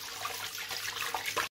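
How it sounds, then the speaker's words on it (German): Tap water running in a kitchen while hands are washed, a soft continuous splashing trickle with small irregular surges, cut off suddenly at the end. "Bei jeder Vorbereitung immer gut die Hände waschen."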